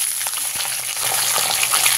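Cut potatoes frying in hot oil with black cumin seeds, a steady close crackling sizzle with faint stirring and no voices.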